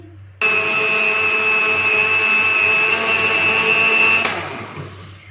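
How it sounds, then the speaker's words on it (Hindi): A blender runs at high speed mixing a strawberry milkshake with condensed milk. It starts abruptly as a loud, steady whirring whine, holds for about four seconds, then cuts off and winds down. "इसको हाई स्पीड पे ब्लेंड कर लेंगे।"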